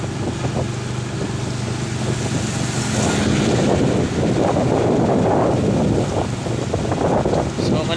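Motorcycle ride on a quiet early-morning road before dawn: steady buffeting wind rush and road noise with an underlying engine drone that swells in the middle, and a voice talking over it.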